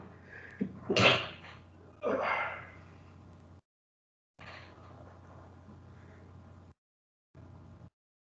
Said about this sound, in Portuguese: Eu vou espirrar.